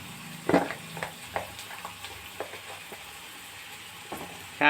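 Potato curry with onions and chili powder is stirred in a pan: a spoon scrapes and taps against the metal in irregular strokes over a soft background sizzle, with no talk.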